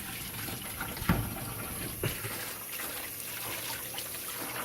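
Water runs steadily in a sink while clay is washed off pottery tools, a soft continuous rush with a couple of brief knocks from the tools, fairly quiet and without talking.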